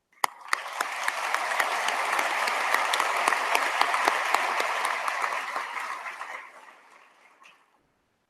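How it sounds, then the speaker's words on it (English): Audience at a graduation ceremony clapping, a dense burst of applause that starts suddenly, holds steady for several seconds with sharper individual claps poking through, then fades away to silence. "We applaud your presence here."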